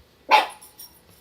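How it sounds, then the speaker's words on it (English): A house dog gives a single sharp, fairly close bark indoors, followed by faint quieter traces in an otherwise quiet room. "Ain't nothing for you to be barking at."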